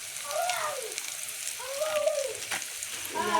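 Kantola sabzi sizzles and fries in a pan, a continuous crackling hiss with a few swooping squeaks as the vegetables shift, close and fairly loud with no talking.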